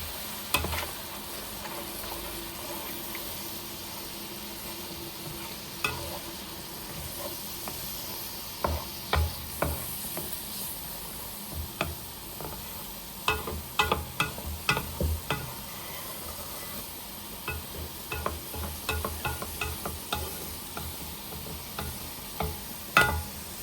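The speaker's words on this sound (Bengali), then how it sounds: "মশলাটা সুন্দর মতো কষানো হয়ে গিয়েছে" Stir-frying a curry spice paste with a splash of water, for an eggplant and fried fish curry: a low steady sizzle and hiss under repeated scraping and clinking strokes of a spoon in the pan, irregular bursts, close up, no voices.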